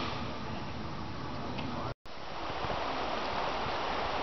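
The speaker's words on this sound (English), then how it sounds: "this is actually the upper headwaters of the Nantahala River" Steady rushing water of a mountain stream at the upper headwaters of the Nantahala River in North Carolina, a continuous broadband flow heard alone, with a brief dropout midway.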